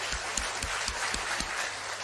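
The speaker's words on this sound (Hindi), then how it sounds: "जोरदार तालियां एक बार अपने लिए बजा लीजिए" Audience clapping at a Modicare business seminar, a short burst of scattered, uneven claps heard through a steady hiss.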